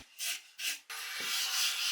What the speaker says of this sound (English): I'm just lightly sanding the edges so that everything can glue together nicely